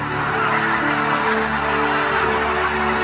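Flock of geese honking over the border island of Gyodong between North and South Korea, a dense, continuous chorus of overlapping calls filling the air at steady loudness.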